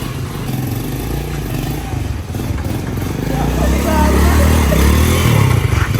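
A motorcycle engine runs steadily and loud up close during a ride, its mid-range drone swelling slightly as it picks up speed, with people talking over the engine noise.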